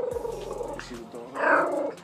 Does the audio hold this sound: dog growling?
yes